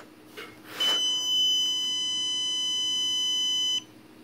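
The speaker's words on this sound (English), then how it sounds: "It does two warning beeps, and that's then after that, if the dog's still barking, it starts to shock the dog." A dog shock collar gives off a single long, piercing electronic tone lasting about three seconds after a brief rustle, loud and steady before cutting off abruptly.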